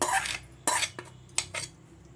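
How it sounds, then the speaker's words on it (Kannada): A spoon clinks and scrapes against a metal dish several times while mixing chana dal chutney powder with a mustard seed, asafoetida and curry leaf tempering, in short separate knocks with quiet gaps between them. "ಒಗ್ಗರಣೆ ಹಾಕಿ ಕಲಿಸ್ತಾ ಇದ್ದೀನಿ"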